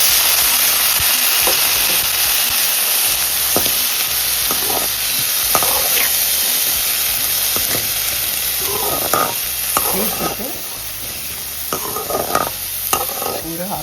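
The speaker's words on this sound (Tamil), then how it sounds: "நறுக்கி வச்ச பீன்ஸை இதோட சேர்த்துடலாம்" Green beans with peanuts stir-fried for a South Indian poriyal in a pan: a steady hiss of sizzling oil runs throughout, broken by scraping clicks of a spoon stirring the vegetables.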